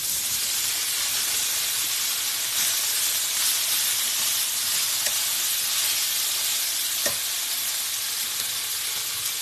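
Steak for quesadillas sizzles in a hot frying pan, a dense, even hiss of fat and steam that holds steady throughout, close and fairly loud, with a couple of faint clicks and no talking.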